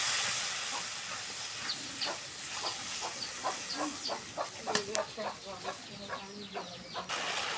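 Ground spice paste of ginger, garlic and cumin with turmeric, chili powder and salt frying in oil for a jackfruit curry, a soft hiss punctuated by irregular spatters and stirring clicks, fairly faint and steady.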